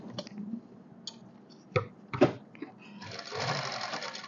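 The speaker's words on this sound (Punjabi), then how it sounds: "ਹੁਣ ਆਪਾਂ ਚੱਲਦੇ ਹਾਂ ਮਸ਼ੀਨ ਤੇ ਦੇਖੋ ਜੀ ਹੁਣ ਆਪਾਂ ਸਵਾਈ ਲਗਾਵਾਂਗੇ ਇਸ ਤੇ" A sewing machine stitches the collar of a kameez shirt. A few clicks come under some talk, then the machine runs in a short, steady whirring burst close by at the end.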